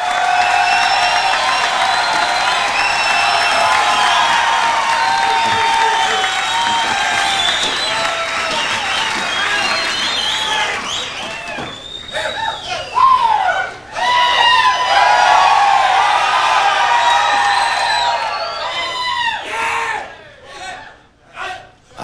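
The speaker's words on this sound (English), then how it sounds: "What's with all the cheering, you know?" A large church crowd cheers and applauds, a loud sustained roar of clapping and shouting voices that swells, then breaks into scattered whoops and calls before fading.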